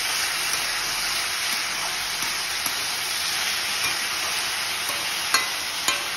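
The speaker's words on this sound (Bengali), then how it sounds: "আস্তে আস্তে ভেজে নেব।" Potatoes with cumin seeds frying steadily in a pan, a continuous dense hiss of oil with occasional faint pops and stirring scrapes, close and unbroken.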